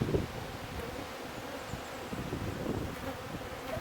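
Honey bees buzz around an open hive that is bursting with colony, a steady close hum of many insects with light wind rustle over it.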